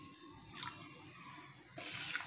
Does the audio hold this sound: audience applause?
no